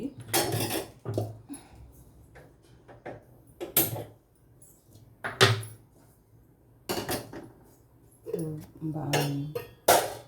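Metal frying pan set down on a stove while cooking fish fry, a few clanks and knocks of cookware scattered among handling sounds, close, with someone talking in between.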